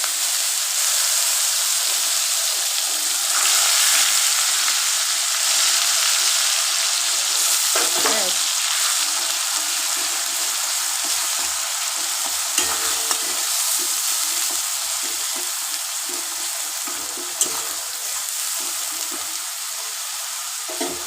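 Onion paste fries in a pan with cardamom and cinnamon, giving a loud, continuous close-up sizzle and bubbling hiss, with occasional stirring scrapes and clicks throughout and no talking.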